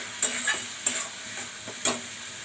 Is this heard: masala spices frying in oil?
yes